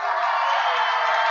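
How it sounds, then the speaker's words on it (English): A crowd at an indoor football game between the Raiders and the SteelHawks makes a steady, muffled wash of cheering and noise from the stands, with a commentator talking over it. "Crowd making some noise"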